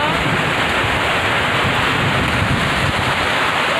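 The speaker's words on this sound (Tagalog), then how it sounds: "Lakas ang ulan." Heavy rain pouring down in a steady, dense hiss, loud and close, continuing without a break and with no talking over it.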